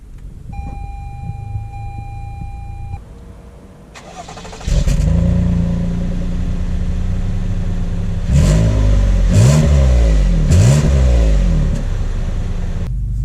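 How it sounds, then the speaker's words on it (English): A 2019 Toyota Highlander Limited Platinum SUV starts up and pulls away, its engine settling into a steady hum before revving through several rising, falling surges as it accelerates, heard close and loud. "let's take the Highlander out to see how it drives"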